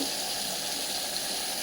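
Water pouring into a pan of chicken curry, a steady hissing splash with a slight sizzle, continuous and close with no talking.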